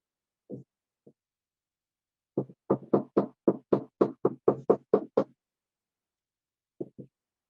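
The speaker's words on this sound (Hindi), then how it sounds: "यहाँ क्या ठक ठक नॉक कर रहा है कोई" Knocking during an online class: a couple of isolated taps, then a quick run of about ten sharp, evenly spaced knocks, and two more faint taps after a pause, heard alone without talk.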